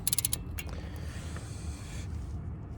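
New crush washers get torqued down on valve cover bolts of a BMW M30 engine; a quick run of sharp, close mechanical clicks opens, then only a low, steady hum remains.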